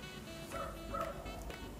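Faint dog barks and yips in the distance, a couple of quick calls over a low background hum.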